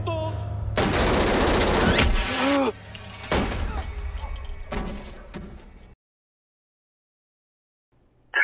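Gunshots in a GTA roleplay session: loud, sharp shots ring out in quick succession for several seconds, then stop into near silence before a final burst near the end.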